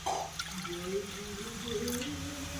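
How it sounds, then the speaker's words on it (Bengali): Water is poured into a pressure cooker for steaming katla fish, a short gurgling fill whose pitch rises as the vessel fills, close and fairly quiet. "প্রেসার কুকারে আমি জল দেবো"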